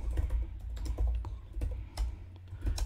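Irregular bursts of keystrokes as code is typed on a computer keyboard, soft close clicks in quick clusters with short pauses, over a low room rumble and no talking.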